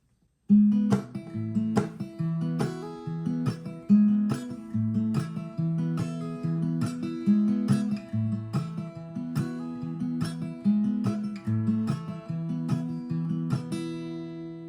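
Acoustic guitar plays a repeating picked pattern of notes with quick slurred hammer-ons, steady and clear with no voices.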